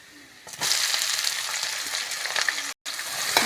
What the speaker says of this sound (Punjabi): ਆਪਾਂ ਪਾ ਰਹੇ ਹਾਂ ਜੀ ਇਹਦੇ ਵਿੱਚ ਕੱਟਿਆ ਹੋਇਆ ਪਿਆਜ਼